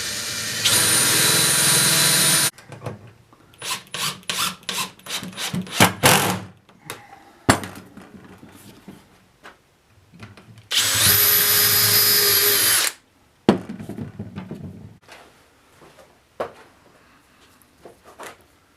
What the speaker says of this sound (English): I'm going to have to drill new holes